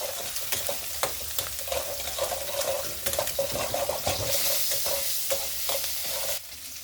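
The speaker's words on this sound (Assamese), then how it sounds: "আৰু এতিয়া মই কণী আৰু পিঁয়াজখিনি ভালকৈ ফ্ৰাই কৰি ল'ম।" Eggs and onions fry in a pan for homemade pasta, giving a continuous close sizzle broken by frequent sharp scraping and tapping of a stirring utensil. No one talks.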